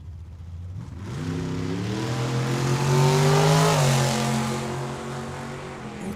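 Two drag racing cars launch side by side at Tucson Dragway, engines roaring up through rising revs to a loud peak before fading slightly as they pull away down the track.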